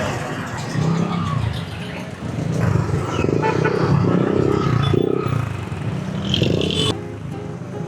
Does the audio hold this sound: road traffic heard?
yes